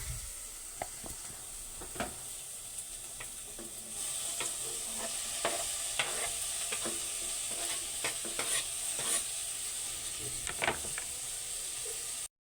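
Cabbage and sardines cook in a pan while being stirred, with a utensil scraping and clacking repeatedly over a steady sizzle that grows fuller partway through.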